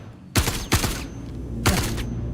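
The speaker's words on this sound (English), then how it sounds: "Suppressing fire." Gunfire in the video game Star Citizen: three loud, sharp bursts of shots close by, the first two in quick succession and a third after a short pause, over a low steady hum.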